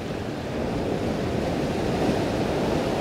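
Ocean waves surge and wash over coastal rocks on the Central Coast near Sydney, a steady, loud, broad rushing roar with wind noise mixed in and no talk.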